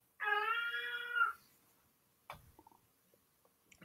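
A cat lets out one clear, drawn-out meow up close, then silence broken by a few faint knocks and small sounds.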